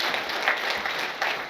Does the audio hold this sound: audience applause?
yes